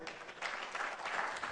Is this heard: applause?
yes